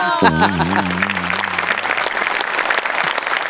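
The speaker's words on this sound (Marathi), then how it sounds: "साहेबांसाठी जोरदार टाळ्या होऊन जाऊ देत" Brief applause from a studio audience on a Marathi comedy show rises after a short sung or spoken note, a steady clatter of clapping that fades out.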